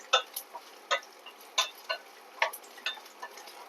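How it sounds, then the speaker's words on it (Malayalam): Grated coconut and curry leaves are stirred slowly in a pan over low heat, giving faint, sparse scraping and ticking strokes in an irregular rhythm over near silence, with no voices. "കുറച്ച് വേപ്പിലയും കൂടി ഇട്ട് നമ്മൾ പതുക്കെ അങ്ങനെ ചെറിയ ചൂടിലൊന്ന് ഇളക്കിക്കൊണ്ടിരിക്കുക."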